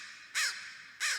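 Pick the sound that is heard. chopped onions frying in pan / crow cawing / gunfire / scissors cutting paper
crow cawing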